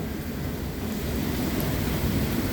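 Deep, continuous thunder rumbling through a storm, with heavy low-end roar sustained throughout and a wash of rain-like noise on top, no distinct individual claps standing out.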